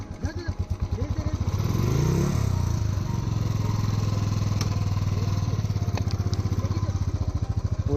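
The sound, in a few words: motorcycle engine revving off-road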